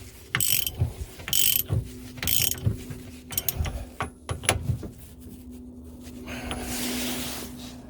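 A steering wheel nut on a UTV, a Polaris RZR, being tightened by hand with a ratchet, giving rapid clicking bursts in a series of short strokes, close and clear, then a softer rub.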